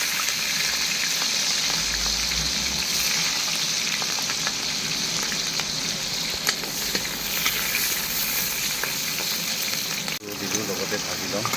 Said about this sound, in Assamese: এতিয়া পিয়াজ জলকীয়াতে আগতে ভাজি কৰি লওঁ পিয়াজ জলকীয়া